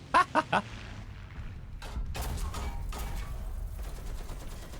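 Bursts of Browning machine gun fire from a Sherman Firefly tank in the War Thunder game, three quick loud bursts at the start followed by ongoing battle noise and engine rumble.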